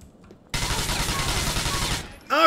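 Rapid automatic gunfire in Grand Theft Auto 4, a loud continuous burst of about one and a half seconds that starts abruptly after near silence and cuts off sharply, followed by a short electronic game sound.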